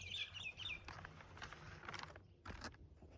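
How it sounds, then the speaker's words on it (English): Birds chirping and singing in an Australian cut flower garden on an early morning, several bright calls near the start and scattered chirps after, faint and set against quiet outdoor background noise. "the birds in the morning are just amazing this time of year, and hopefully they're coming through on the video"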